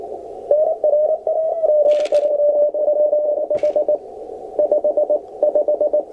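A steady, clear radio tone on an HF receiver hums continuously through background static, briefly broken into short pulsing bursts near the end, with occasional hissy crackles.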